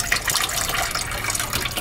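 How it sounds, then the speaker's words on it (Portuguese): Water gushing steadily from a dishwasher water connection in a home kitchen, a continuous close, fairly loud rushing flow with no talk. "água não para de sair totalmente"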